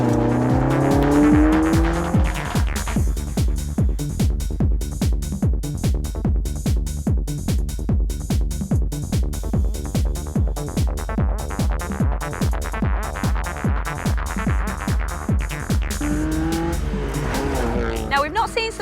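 A modified Vauxhall Nova drives on an airstrip, its engine rising with a brief tire squeal at the start, then running under a loud, steady, pulsing beat for the rest of the stretch.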